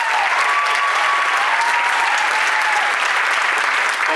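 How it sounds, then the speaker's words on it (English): A school audience applauds student instrumental musicians at a spring concert, with steady, dense clapping that stays loud and even for the whole stretch. "So again, give them some applause for"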